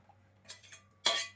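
A few brief metallic scrapes of a spoon stirring flour into boiling fish broth in a pot, the last one louder, in an otherwise quiet setting.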